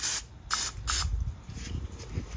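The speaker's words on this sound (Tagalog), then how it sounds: "Lagyan ko muna ng mantika para hindi dumikit." Cooking oil sprayed onto a grill before grilling squid, heard as three short, close hissing bursts followed by quieter background crackle.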